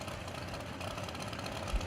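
A 358-cubic-inch Dodge dragster engine at a drag racing event gives off a steady, dense mechanical roar that holds at an even level, with a brief low thump near the end.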